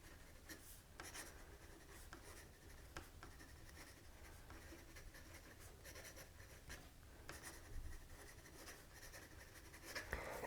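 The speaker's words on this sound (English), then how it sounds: "it's weird to me to see this pen write in blue" A nicely tuned fountain pen inked with Waterman Blue, neither too wet nor too dry, scratches steadily across paper. The soft, close writing texture runs unbroken with faint pen lifts and small strokes throughout.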